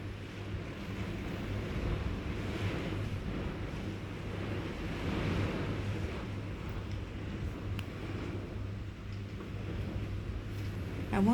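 Wind buffeting and surf washing on a rainy beach at Sandals Royal Plantation, a continuous broadband rush with gusty swells, steady and moderately loud.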